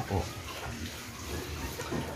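Pigs grunting on a farm, among the largest finisher-stage hogs in the pen, with low snorts and grunts coming in short bursts over a steady background.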